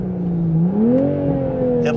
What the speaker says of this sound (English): when you like to rev it up all the way to the top like this